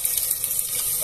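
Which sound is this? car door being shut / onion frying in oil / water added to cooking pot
water added to cooking pot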